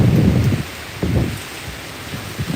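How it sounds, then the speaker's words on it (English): Hurricane Milton batters Orlando, Florida with bursts of wind and rain, heavy gusts arriving in close, low rumbling surges that come and go over a constant wet hiss. "show you guys what it's like in Florida during a hurricane"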